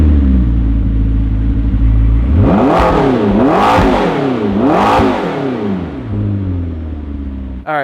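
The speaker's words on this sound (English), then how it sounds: "we're gonna start off with just firing it up and giving you a couple revs" A McLaren 650S fitted with a Kline Innovations Inconel exhaust idles loudly, then revs sharply three times with rising and falling snarls before settling back to a deep idle, close up and alone.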